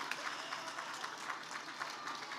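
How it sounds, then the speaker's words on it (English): An audience at a business pitch competition and awards event claps steadily, a dense even applause from a sizable crowd continuing throughout at moderate level. "Round of applause for Juan and Frescos Naturales."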